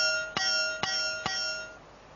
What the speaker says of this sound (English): This was the piece, the bell that they used.